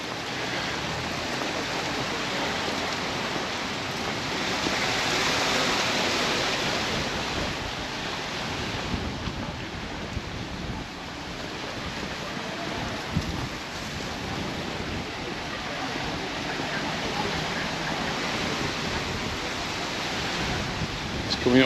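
Strong wind roars steadily across the microphone at the beach in Palmanova, Mallorca, a continuous broadband rush with gusts, likely mixed with surf, and no clear talk.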